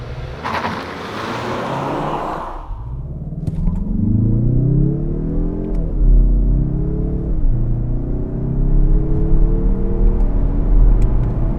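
A Mazda 3 turbo car engine revs hard and accelerates from a launch with rising pitch through several gear changes, loud and close, after a burst of rushing noise.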